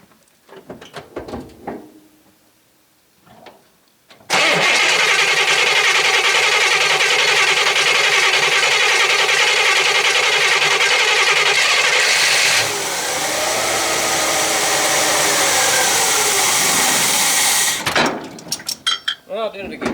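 A 1966 Chevy Biscayne big-block V8 with a Quadrajet carburetor cranks briefly after some faint clatter, then catches and roars into a loud, steady idle that drops slightly in pitch before cutting off abruptly.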